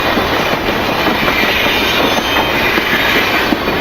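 A toy train engine runs along its track with a steady, loud rolling rattle and clatter that carries on without a break, and there is no talking.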